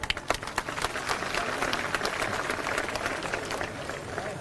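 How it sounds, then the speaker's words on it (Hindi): Crowd at a political rally clapping loudly, a few sharp claps up front swelling into a steady, dense round of applause that continues at moderate distance. "एक बार जोरदार तालियां"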